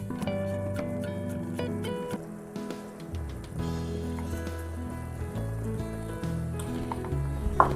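Shrimp sizzle steadily in a pan as cream is poured in and stirred, a constant frying crackle with soft stirring scrapes and clinks throughout, close and moderately quiet.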